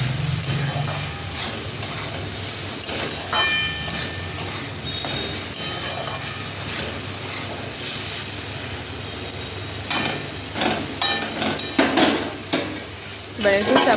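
Chilli paneer with chopped capsicum is stir-fried in a pan, a continuous sizzle and frying hiss mixed with repeated spatula scrapes and metallic clatter that grow busier toward the end.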